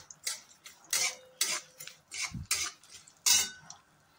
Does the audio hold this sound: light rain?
no